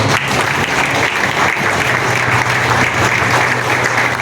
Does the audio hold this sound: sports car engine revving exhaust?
no